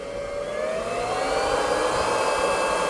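Waste oil burner running at high revs, giving a loud, steady jet-like roar with a whining tone that rises slightly and holds.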